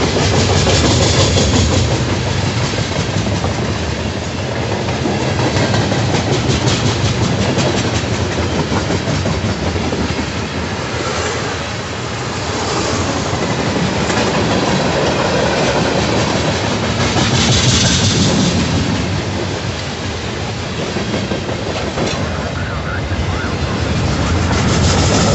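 Norfolk Southern freight train with heritage unit 8114 and mid-train DPU locomotives rolling past, a loud continuous rumble of wheels and clacking cars that swells and eases over nearly half a minute.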